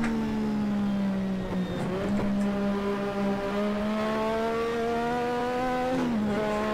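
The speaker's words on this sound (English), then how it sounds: "when I blip the throttle on a downshift, it makes this aggressive aggressive noise sound" In-game engine of a Lotus 98T turbo Formula One car in Assetto Corsa at Spa-Francorchamps, a loud, steady, close engine drone with short throttle blips on downshifts that make the pitch jump briefly around two and six seconds in.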